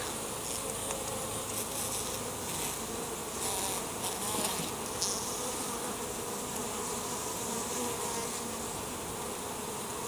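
Honeybees buzz in a dense, continuous drone around an open hive during an inspection of the brood frames, heard close and steady with no talking.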